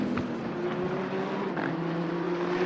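A GT race car in a sim racing game on the Suzuka circuit during a 10-hour endurance race drones with a steady engine tone, no voices heard.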